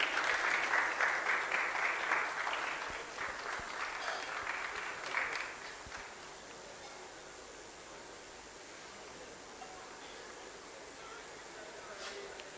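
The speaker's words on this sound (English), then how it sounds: "A big round of applause, please." An audience at a national corporate conference applauds during a memento presentation, a broad patter of clapping that fades over the first six seconds and leaves quiet room tone behind.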